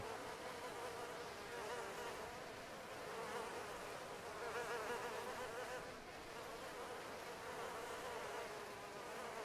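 Steady, dense buzzing of bees swarming around beehives in the survival video game DayZ, a continuous insect drone at even loudness throughout with no voices.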